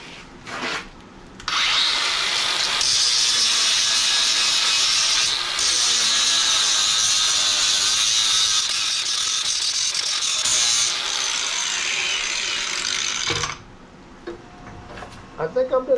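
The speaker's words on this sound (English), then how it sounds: "It's going pretty slow with that little 4-inch grinder there" A small 4-inch angle grinder grinds a steel tie-rod on an MF40 tractor backhoe, a steady loud abrasive whine holding for about twelve seconds before cutting off, with brief handling noise at either end.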